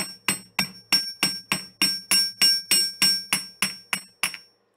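A metal hammer strikes jewelry wire on a wire-wrapped pendant about a dozen times at a steady, even pace, each blow a bright ringing tap with a short metallic decay.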